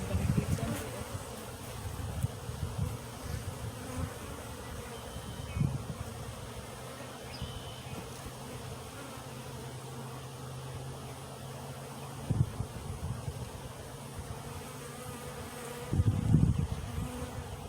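Honeybees buzz steadily around a hive being split and assembled, a continuous close drone with a few louder passes near the microphone, and no talking.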